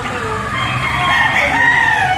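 Chickens at a fowl market in Lipa, Batangas, a rooster's drawn-out call rising and wavering over a murmur of background noise for a couple of seconds.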